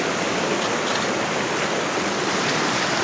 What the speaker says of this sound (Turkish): Derenin hemen kenarı.